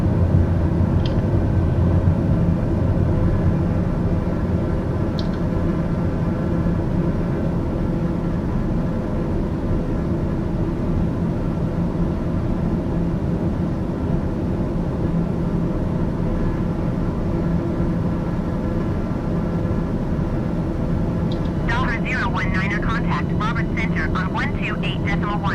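A steady, loud airplane engine drones in Microsoft Flight Simulator 2020 as the plane climbs out after takeoff from Monrovia, Liberia, with gear and flaps retracting, a constant hum with a brief voice-like burst near the end.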